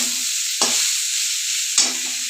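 Beetroot frying in a pan with poppy seeds, a steady bright sizzle running throughout, broken by two sharp scraping stirs about a second apart.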